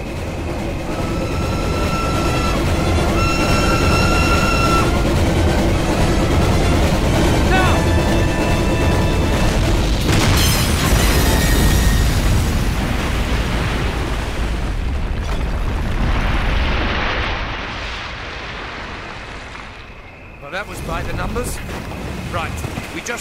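Large explosion from detonated charges in Call of Duty, a heavy sustained boom and rumble swelling around the middle and slowly fading over game music and ambience.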